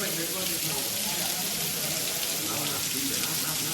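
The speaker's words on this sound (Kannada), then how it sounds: "ಇವತ್ತಂತೂ ಸಿಕ್ಕಾಪಟ್ಟೆ ಮಳೆ ಬರ್ತಾ ಇದೆ" Heavy rain pours at a temple in Nepal, a dense, steady hiss of falling water close by, unbroken throughout.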